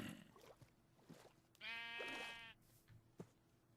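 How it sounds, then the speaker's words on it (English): A single sheep in Minecraft gives a clear, drawn-out bleat of about a second, standing out over quiet background game ambience. "And a sheep."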